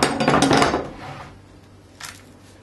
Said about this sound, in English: with our hacksaw, a couple of nice decisive strokes until you hear the snap